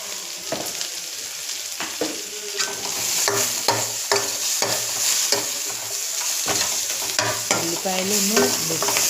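Onions frying in a pan for a tomato egg curry, a loud bright sizzle punctuated by frequent scraping and knocking stirring strokes, close up and continuous, with no voices.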